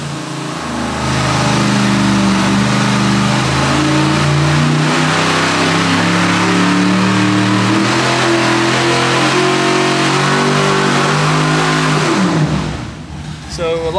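A 1,000 hp 632 cubic-inch big block Chevy engine revs hard on a dyno, holding a loud, steady, climbing roar for about twelve seconds before cutting off abruptly, with the sound heard close up.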